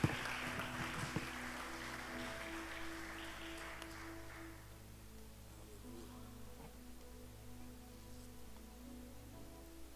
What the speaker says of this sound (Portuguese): Por favor, aplauda ele.